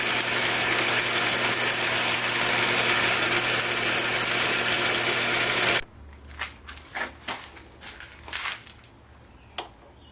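An oversized electric motor running on a surface grinder's wheel balancing arbor setup hums steadily and loudly for about six seconds, then cuts off, leaving a series of light clicks and taps.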